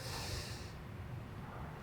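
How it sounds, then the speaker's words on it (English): A single long, airy inhale drawn close by, hissing steadily before easing off. "One more time, breathe in."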